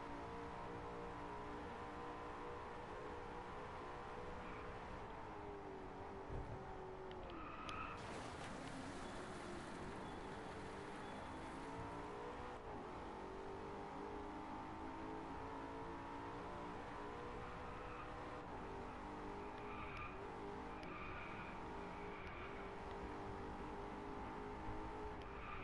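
Race cars in the video game DriveClub on PS4 roar steadily throughout, with engines revving and shifting up and down the whole time, loud and continuous with no talking.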